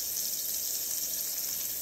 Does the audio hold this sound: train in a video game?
no